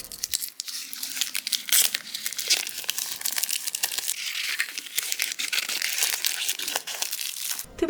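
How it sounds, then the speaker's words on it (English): Vinyl sheet is peeled slowly off a backing, giving close continuous crinkling and tearing crackles with bursts of sharper ripping and no voices. "Are you ready for some ASMR peel-off action?"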